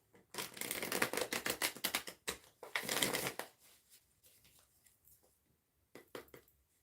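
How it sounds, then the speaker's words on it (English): Cards are riffle-shuffled close by: a rapid fluttering burst, a second shorter riffle, then a few soft taps as the deck settles. "I'm going to shuffle 3 times, dear, and then I'm going to cut the cards"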